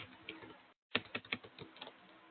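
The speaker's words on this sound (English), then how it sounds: "Sorry, I'm typing." Keys clatter in quick, irregular bursts as someone types on a computer keyboard during an online strategic management class, fairly close and alone, with a short silent gap partway through.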